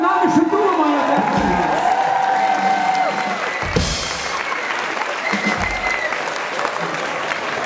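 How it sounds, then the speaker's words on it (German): An audience at a concert in Solingen applauds and cheers for a band's duo: dense clapping with whoops and raised voices, loudest at first and then settling into sustained applause. "Applaus für das dynamische Duo, meine Damen und Herren"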